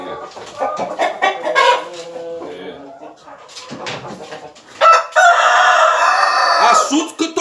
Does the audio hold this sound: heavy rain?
no